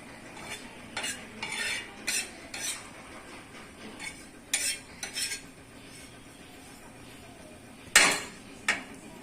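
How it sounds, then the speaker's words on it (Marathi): Grated coconut being stirred and roasted in a pan until golden-brown, with repeated scraping and clinking of a spatula against metal over a faint sizzle. "खोबरं पण छान तांबूस कलर येईपर्यंत आपल्याला भाजून घ्यायचं आहे"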